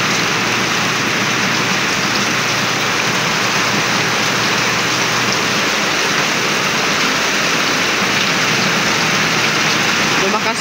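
Heavy rain pours steadily onto a house roof, a dense, loud, continuous hiss and patter with no letup throughout.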